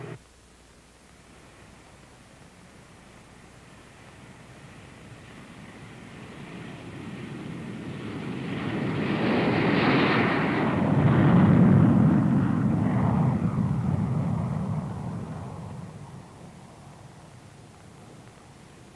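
A 1947-era F-80 jet fighter comes in to land, its broad roaring whoosh swelling from a distant hiss to a loud peak near the middle, then fading away, heard alone without voices.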